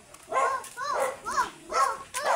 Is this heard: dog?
yes